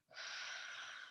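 A single steady inhale through one nostril during a seated qigong breathing exercise, close and airy, rising quickly and holding as a soft hiss for about a second in a quiet room.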